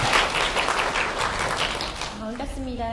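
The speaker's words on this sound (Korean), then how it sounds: "큰 박수로 맞이해주시기 부탁드리겠습니다." A seminar audience applauds to welcome a lead instructor at a summer academic strategy briefing, a dense, steady wash of clapping that fades after about two seconds as a voice begins speaking.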